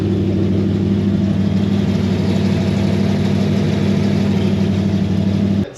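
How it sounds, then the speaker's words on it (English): Engine of a 1974 Holden Monaro GTS with slip-on turn-down mufflers runs steadily, a deep, loud, throaty idle with a lumpy low rumble that holds constant for several seconds before cutting off. "when I broke in this camshaft, I used a set of slip-on mufflers with turn downs."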